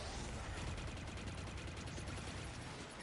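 Rapid gunfire from a sniper-loadout battle in the video game Destiny 2, dense overlapping shots and blasts forming a continuous loud barrage with no clearly separated single rifle cracks.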